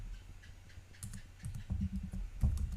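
Quick light clicks of typing on a small computer keyboard, soft at first and then growing into denser bursts of keystrokes, close by and with no voices.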